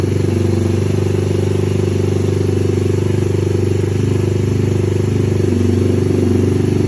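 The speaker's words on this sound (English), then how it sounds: "It's just cold, so it idles high, but it idles down once it warms up." A 2021 MADDOG Generation V 150cc scooter engine idling high while cold, a loud, close, steady buzzing hum with an even rhythmic pulse and no talk.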